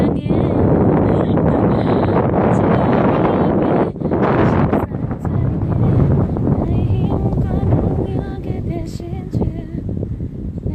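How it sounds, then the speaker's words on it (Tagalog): Strong wind on a hillside buffets the microphone with loud, continuous roaring gusts that rise and fall, while people talk faintly underneath. "ang lakas ng hangin"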